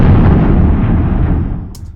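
Heavy, boosted low-end boom of a processed firework explosion, loud and close, rumbling and slowly decaying over about two seconds, with a faint high pop near the end.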